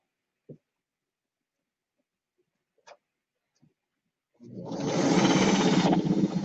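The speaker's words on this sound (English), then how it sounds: "I'm going to sew myself a little leader ender here" A home sewing machine stitches a quilting leader ender using neutral and purple thread, a steady fast mechanical whir close by for about two seconds after a few soft clicks and taps.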